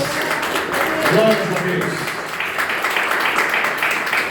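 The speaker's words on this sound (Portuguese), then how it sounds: "Eu quero ouvir uma belíssima salva de palmas para Jesus." A church congregation applauds through a Portuguese-language worship service, a steady patter of clapping with a voice calling out over it.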